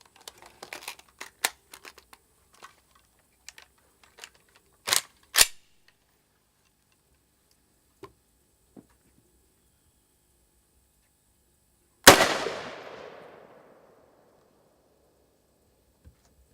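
A rifle fires a single loud M118 7.62 round at a steel armor plate, a sharp crack with a long ringing decay, preceded by scattered light clicks and handling noises with no voices.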